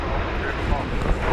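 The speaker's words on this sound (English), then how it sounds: "And now, there goes the 777 off to" A Boeing 777 bound for Honolulu rolls into its takeoff at DFW Airport, a loud broad engine roar with rumbling low end, with someone talking over it.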